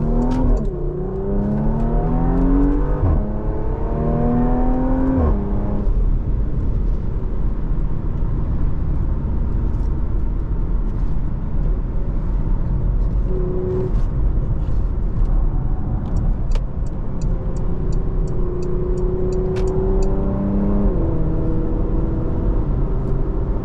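A 2021 Porsche Macan GTS engine pulls through gear changes on a drive, rising and falling revs blending into a steady cabin rumble and road whir throughout, with no voices.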